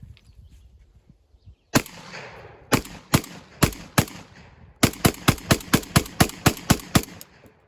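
A Panzer Ranch shotgun fed from a drum magazine fires loud, sharp shots. A few single shots come first, then a rapid, evenly spaced string of blasts, all close and with no talking.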